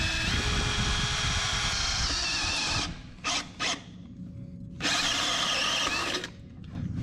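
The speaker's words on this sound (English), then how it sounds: "Drill us a 1/2-inch hole." A power drill whines loudly and steadily boring a 1/2-inch hole on a truck, pausing briefly a few times before spinning up again, close by.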